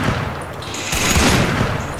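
A burst of loud gunfire in a video game with sniper rifles: a dense, booming volley that swells in the second half and fills the whole moment with no talk.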